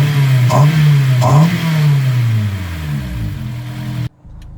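A Honda S2000 engine fitted with a cold air intake snorkel revs loudly nearby, with two quick throttle blips rising over a steady droning idle before the sound cuts off abruptly.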